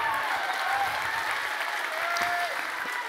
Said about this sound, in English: we can give Karen a round of applause for that.